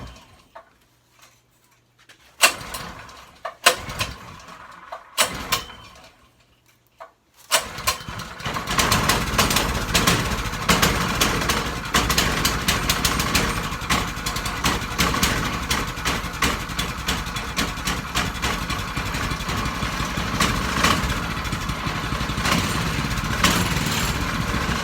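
An Avenger go-kart's small engine catches after a few quiet clicks and sputters, then runs steadily and loudly close by with a continuous rough drone, no talk over it.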